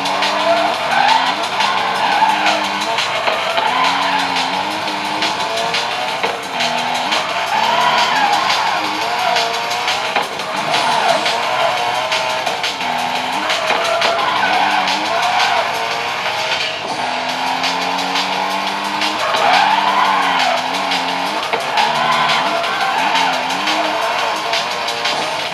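Tyres skid and squeal continuously as a car drifts in the street racing game CarX Street, with revving engine tones rising and falling throughout, loud and steady with no talking.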